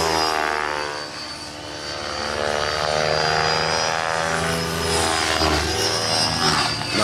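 A large electric RC aircraft motor whines under load, a loud close propeller drone with harmonic tones that dips and then swells as it digs in, no talking.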